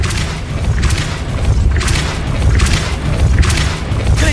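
Depulso spell casts in the video game Hogwarts Legacy, a series of heavy booming thuds and whooshing bursts repeating roughly every second over a dense, loud rumble of game combat.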